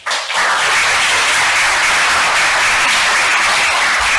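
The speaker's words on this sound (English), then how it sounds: "Let's give them a round of applause," A conference audience applauds a panel at a GameFi and guild session, the clapping starting abruptly and holding as a dense, steady wash of hands from a large crowd.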